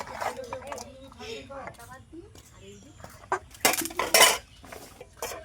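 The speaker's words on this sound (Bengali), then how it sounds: "প্রেশার কুকারের মধ্যে সব দিয়ে দেবো" Ingredients are scraped and dropped into a pressure cooker with clinking utensils and metal knocks, loud clanks near the end, while someone talks in between.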